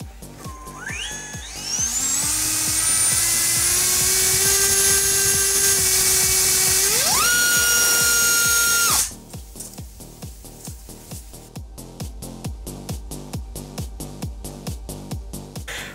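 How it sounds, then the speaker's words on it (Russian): An Oakfly R-Vector 2306 2400KV brushless motor with a 5046 Dalt Cyclone propeller and a 35 A ESC on a thrust stand spins up in stepped whines to a loud, steady high-pitched scream, then cuts off, leaving a rapid ticking clatter. "Тест мотора Oakfly R-Vector 2306 КВ 2400, пропеллер 5046 Dalt Циклон"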